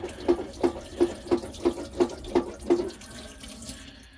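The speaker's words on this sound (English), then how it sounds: "you pump that a few times, and then you turn this tap on" Water splashing from a tap fed by a hand pump, arriving in eight evenly spaced gurgling surges about a third of a second apart before easing into a softer, steady trickle; close by, with no voices.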